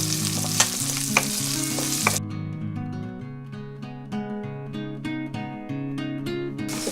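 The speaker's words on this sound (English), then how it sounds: "Fry them well." Onions frying in a pan for crab curry give a steady close sizzle with occasional stirring clinks, sitting under a bed of sustained background music.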